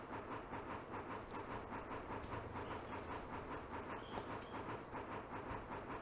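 A train runs steadily in the video game Bounty Train, giving a continuous rolling rumble with faint rhythmic clatter and hiss, moderately quiet and with no voices.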